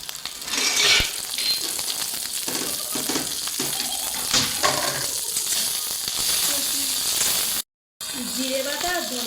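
Red dried chili and green chili paste hitting a hot pan for a Bengali chicken and potato curry, giving a bright sizzle and crackle with stirring clinks and scrapes, interrupted by a brief gap of silence near the end.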